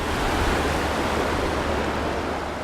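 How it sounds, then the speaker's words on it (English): Broad, steady rush of a creek large enough to be nearly a river, flowing past the shore in a continuous close wash with no talk. "Now I'm going down by the shore of this creek."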